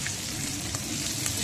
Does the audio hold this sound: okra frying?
yes